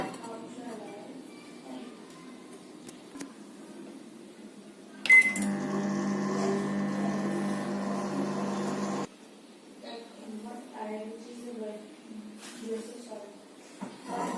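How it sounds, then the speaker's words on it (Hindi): A microwave oven hums steadily for about four seconds after a click and beep, then cuts off, with quiet kitchen sounds around it. "अब हम इसे माइक्रोवेव कर लेंगे 30 सेकेंड के लिए।"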